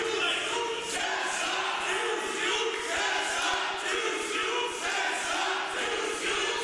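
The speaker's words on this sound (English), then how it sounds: "Listen to the crowd here" A wrestling crowd at a Smash Wrestling women's match keeps up a steady roar of cheering and chanting in rhythmic surges, filling the arena.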